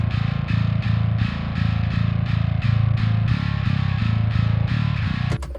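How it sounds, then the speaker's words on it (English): Heavily saturated bass guitar part, gritty distorted notes chugging in a steady pulsing rhythm, loud and upfront, played alone with no voices. "So I've got a bass part over here with some saturation that sounds like this."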